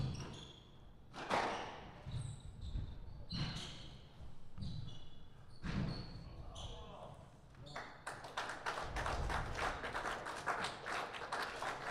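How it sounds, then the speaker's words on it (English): Squash semi-final crowd reacting to a long rally: sharp ball strikes and squeaks first, then building applause and cheering that swells to a sustained burst of clapping, with commentary voices over it. "Crowd voicing their support and approval."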